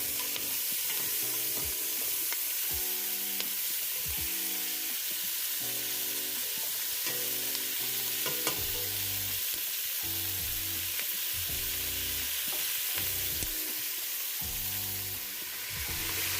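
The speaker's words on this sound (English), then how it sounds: "we're going to be stirring them around to make sure all the onions are coated with the beef oil" Onions sauté in hot beef oil for a pot roast, giving a steady, close sizzle that runs the whole way through as they are stirred, with a faint musical bed underneath.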